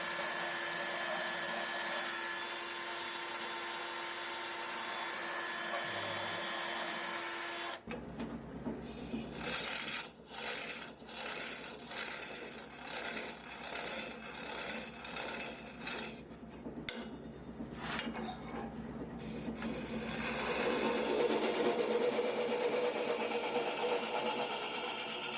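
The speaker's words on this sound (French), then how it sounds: "C'est une meule au diamant conique que André vend avec ses crochets. Et tout simplement installée dans la perceuse." Conical diamond grinding stone chucked in a drill, whining steadily at first, then running in short bursts with pauses and changing pitch as it works wood, fairly faint and alone.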